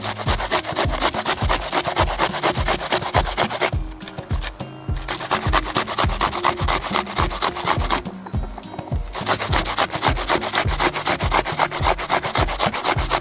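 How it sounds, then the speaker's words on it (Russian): Onions are rubbed against a hand grater for a potato dish, a loud, fast rhythmic rasping that goes on steadily, with two brief pauses between strokes. "Лук натерли"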